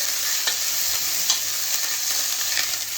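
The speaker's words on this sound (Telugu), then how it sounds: "ఇవన్నీ వేసుకొని ఇలా కలుపుకోవాలండి." A spoon stirs ingredients in a frying pan on a low stove flame, scraping and rustling over a constant loud sizzle with a few sharper clinks; no voices.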